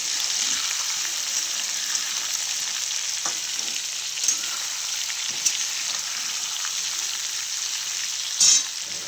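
Sliced bitter gourd sizzles steadily in a frying pan, with a few soft scrapes and knocks of a spoon stirring it, close and continuous with no talk.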